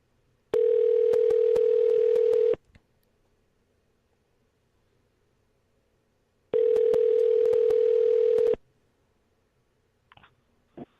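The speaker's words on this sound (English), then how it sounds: "let's get Billy on the phone" Two long, steady telephone ringback tones about four seconds apart, each a loud sustained buzzing tone lasting around two seconds, followed by faint clicks as a call to a radio show guest connects.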